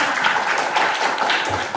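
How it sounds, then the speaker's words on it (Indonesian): A group applauds briefly, with fairly quiet, steady clapping throughout. "Tepuk tangan untuk semua."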